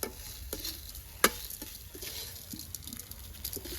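Grated coconut is lightly sautéed in a pan, with soft, quiet stirring scrapes and a faint low sizzle, broken by one sharp utensil tap near the start.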